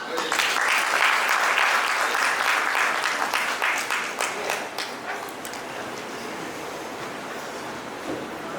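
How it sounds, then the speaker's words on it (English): Sustained applause from a sizable crowd, loud at first and gradually thinning to a softer, steady patter of clapping. "A big round of applause, ma'am."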